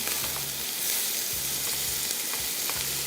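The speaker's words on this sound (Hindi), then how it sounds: "तो सबसे पहला काम प्याज की फ्राइंग" Onions fry in hot oil for biryani, making a loud, steady, hissing sizzle that fills the whole stretch, with a faint low hum underneath and no voices.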